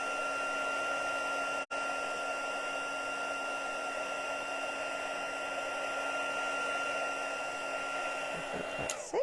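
Heat gun melting embossing powder on a slimline card, blowing with a steady whirring hiss and a constant tone, broken by one brief cut-out, loud and close throughout.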